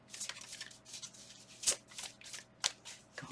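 Tarot cards are shuffled by hand in quiet, close riffles and soft slaps, with several distinct bursts and a couple of sharper snaps between calmer moments.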